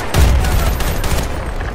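Loud, dense burst of automatic gunfire and overlapping shots in a Battlefield Bad Company 2 multiplayer match, rapid continuous reports with booming low end, heard alone without voices.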